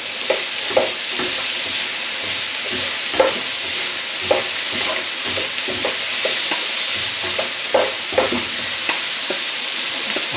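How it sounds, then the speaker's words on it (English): Garlic and chilli frying in a pan alongside ginger, a loud continuous sizzle with regular stirring scrapes and taps, close up and with no voices. "Just give that garlic and chilli a minute or two just to fry off"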